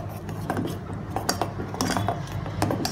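Sago payasam being ladled from a cooking pot into a serving bowl, with repeated close metallic clinks and scrapes of a spoon against the vessels and soft liquid sloshing.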